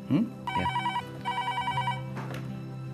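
A telephone rings in a TV serial scene, two clear bell-like rings in regular bursts over a low background tone, after a brief voice at the start.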